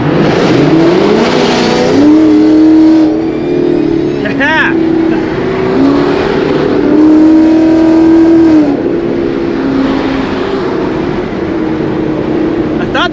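A Chevrolet Camaro ZL1 roars under hard acceleration, its loud engine note rising and falling through repeated gear changes, heard close and continuous with a voice speaking briefly over it.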